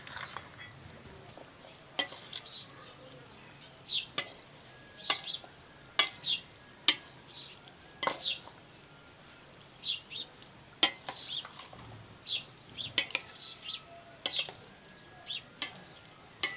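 A spoon stirs and mixes chaat masala with yogurt and chickpeas in a bowl, making light, regular scrapes and clinks at a steady pace that stay faint and close.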